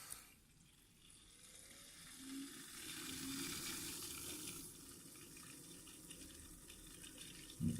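A water cooling loop pump running after being switched back on gives a steady hissing, bubbling flow with faint gurgles, close and continuous, ending in a brief louder knock.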